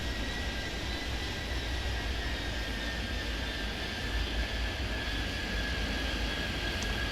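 An aircraft taking off in the video game Airport Madness 3D gives a steady, loud jet-engine roar with a constant high whine, continuous throughout and free of speech.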